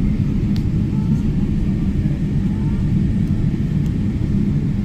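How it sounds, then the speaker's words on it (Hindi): An airliner takes off at Manchester Airport, heard as a steady, heavy low rumble of jet engines with a faint hiss above, continuous and distant. "देखिए जी एक जहाज़ अभी उड़ा है"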